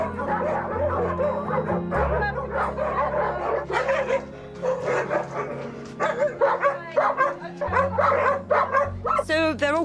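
Several dogs in a house bark and yip repeatedly at close range, an overlapping busy chorus with whimpers, while people talk underneath.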